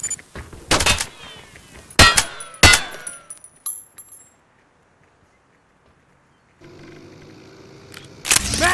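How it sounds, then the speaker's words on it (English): A weapon reload in the shooter game Hired Ops, with sharp metallic clicks and clacks of a magazine being swapped, a few quick mechanical strikes followed by a pause and another burst of handling noise. "I need to reload."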